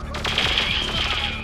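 Rapid automatic gunfire in the video game Perfect Dark, a dense burst of shots over about a second against a bright, sustained alarm-like tone; no talk.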